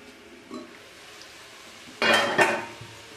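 A metal lid is set onto a cooking pot of karela chana daal on a stove, giving two close clattering clanks, with a faint earlier clink of cookware and no talking.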